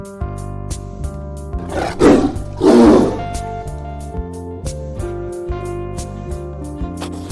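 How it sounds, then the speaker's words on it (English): A cartoon-style tiger roar in a children's alphabet drawing lesson, two loud bursts over steady background music, the second longer and fuller. "T for tiger."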